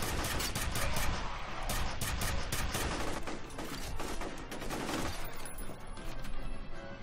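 Dense, continuous gunfire in the shooter F.E.A.R., rapid overlapping shots and mechanical clatter at a steady loud level throughout, with no clear pauses.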